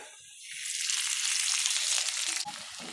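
Atta flour fries in a hot pan in a home kitchen, a bright, close sizzle that swells and holds steady for a few seconds, with no voices.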